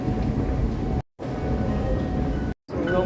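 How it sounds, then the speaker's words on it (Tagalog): Interior ambience aboard a moving MRT train: a steady, dense low rumble and hiss of the carriage in motion, broken by two brief dropouts of silence, with no talking. "So, I'm here guys in the MRT."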